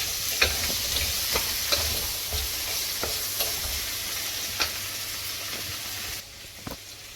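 Chilli crab with squid and tomato cooking in a pan, a steady loud sizzle and hiss of frying, close, with occasional ticks and taps of a utensil, no talk.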